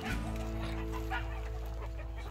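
Hens, including Shamo and Ameraucana breeds, cluck softly nearby in a short burst of low, repeated clucks over a steady background hum.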